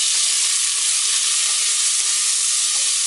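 Two large onions, freshly cut, hit hot oil in a chicken biryani pot over high flame and fry with a loud, steady, broad hiss that fills the whole stretch without pause.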